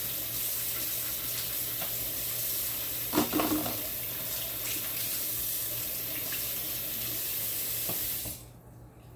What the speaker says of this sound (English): check the water again, make sure it's okay, and I'll wash my knife off